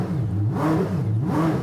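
Koenigsegg Jesko engine giving two quick throttle blips, the revs rising and falling sharply each time, loud and close with no talk over it.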